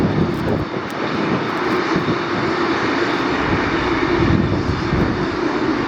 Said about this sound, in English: Do you want to hear it power up?